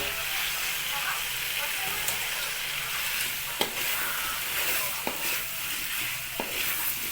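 A spicy masala with potatoes for chicken heart and liver is sautéed and stirred in a pan, giving a steady, close sizzling hiss broken by occasional scrapes and taps of the spatula.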